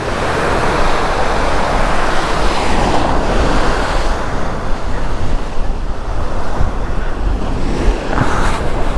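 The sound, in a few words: ocean waves breaking on shore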